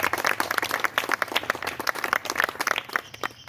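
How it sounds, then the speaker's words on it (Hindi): Audience applause at a stage ceremony honoring a music teacher, dense clapping from a crowd with steady rhythm at moderate distance, filling the whole stretch without speech. "तालियां दोस्तों"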